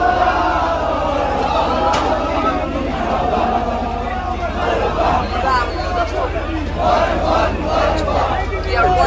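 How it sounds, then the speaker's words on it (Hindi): A large, dense crowd packs an Eid Milad un Nabi procession in Anantnag, with loud continuous babble and shouting voices close by, lasting the whole stretch with no pauses. "भीड़ बहुत है, भीड़ बहुत।"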